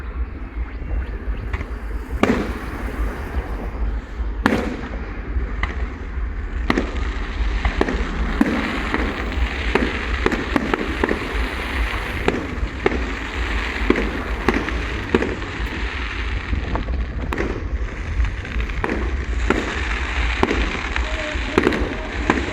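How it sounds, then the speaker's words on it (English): A commercial fireworks display at Rhyl, with sharp bangs and crackling bursts going off repeatedly at irregular intervals over a constant low rumble, fairly loud and heard from a distance. "You'll probably find that this firework display, all in all, is not a bad firework display."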